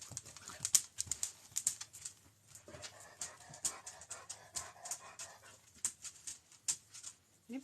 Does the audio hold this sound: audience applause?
no